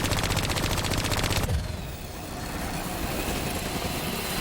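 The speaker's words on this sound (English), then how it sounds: "Shoot down those zaps." Automatic weapon fire in Call of Duty: Black Ops III, shooting down drones: a dense, loud rapid burst for about a second and a half, then a rumbling, engine-like background roar.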